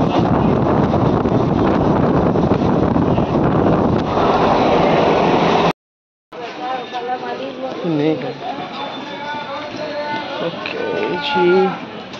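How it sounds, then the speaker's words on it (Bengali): Riding aboard a passenger train brings a loud, steady rushing rumble with wind buffeting. After an abrupt break, a quieter stretch follows with a voice talking over the lower background noise. "ট্রেনে চেপে পড়েছি, বাড়ি যাচ্ছি"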